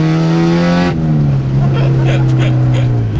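A K-swapped Honda EG Civic engine revs hard, a loud sustained drone climbing in pitch, a quick shift, then pulling again, heard from close by.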